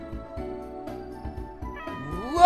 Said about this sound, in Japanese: 猫や、猫。